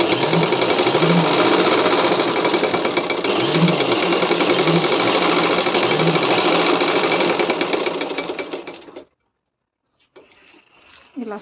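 A sewing machine runs continuously up close, stitching a pleated Kuchipudi dance dress with a fast, even mechanical whir and clatter, stopping abruptly near the end, followed by brief quiet handling sounds.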